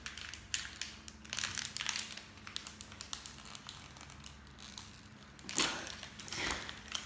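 Plastic wrapping on a Chinese snack cookie crinkles and crunches in bursts as someone struggles to tear it open, close and moderately loud, with a sharper rustling flurry near the end.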